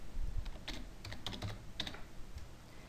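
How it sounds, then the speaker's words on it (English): Typing a list name on a computer keyboard, heard as a short run of irregular, fairly close key clicks over a quiet room tone, with no talking. "Type a list name."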